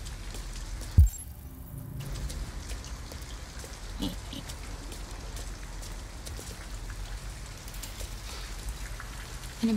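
Steady rain falls in the video game Detroit: Become Human, a soft, continuous patter of drops that stays faint and even, with a brief dull thump near the start and no speech.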